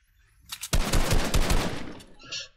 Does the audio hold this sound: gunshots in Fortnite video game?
yes